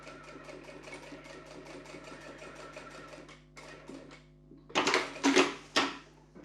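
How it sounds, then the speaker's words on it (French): A sewing machine stitches lining to fabric right along the edge, running in a steady mechanical patter for several seconds, then pausing before louder, closer bursts of stitching near the end. "nous allons donc piquer, assembler notre doublure avec notre tissu. Donc nous piquons ici vraiment au bord"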